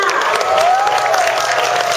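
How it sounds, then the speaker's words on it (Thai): Concert audience applause in Thailand with scattered cheering, dense and sustained for a couple of seconds, with a faint tonal sweep running underneath. "ขอเสียงปรบมืออีกครั้งนะคะ"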